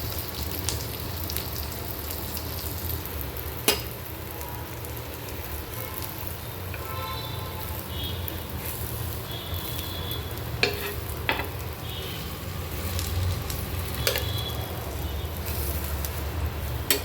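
Rava rolls fry in a little oil in a pan, a steady crackling sizzle throughout with occasional sharper pops and clinks of a utensil.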